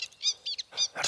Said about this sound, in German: Ein Vogel bewegt sich im Geäst eines Baumes. Er zwitschert,